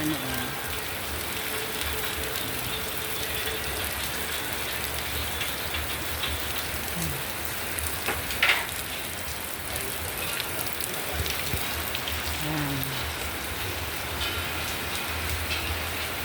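Steady rain from Typhoon Kristin in Ilocos, Philippines hisses across the whole stretch, a dense even patter with low rumbling wind beneath and a few faint distant sounds.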